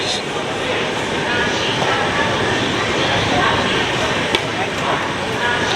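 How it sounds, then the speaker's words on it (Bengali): A Jan Shatabdi express train departs, rumbling steadily past with continuous broadband roar and clatter, loud and near, without pauses. "এই যে জনশতাব্দী ছেড়ে দিচ্ছে"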